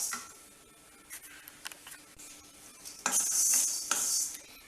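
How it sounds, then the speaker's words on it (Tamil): Urad dal dry-roasting in a pan rattles and scrapes under a stirring spoon, with quiet light clinks at first and then louder, brisk scraping and tinkling toward the end. "இப்போ உளுந்தம்பருப்பை நல்லா செவக்க வறுத்துக்குவோம்."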